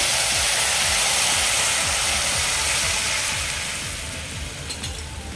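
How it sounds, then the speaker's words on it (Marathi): Two glasses of water are poured into a hot tempering for lapshi upma and set off a loud, hissing sizzle with rapid crackling pops. The sizzle fades gradually toward the end. "आता या फोडणीमध्ये मी पाणी घालते दोन ग्लास पाणी घालते मी यामध्ये"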